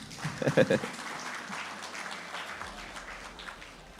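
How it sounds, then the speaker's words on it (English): An awards ceremony audience applauds, a brief burst of clapping mixed with talking voices that fades into room murmur. "Please join me in applauding the incredible contributions"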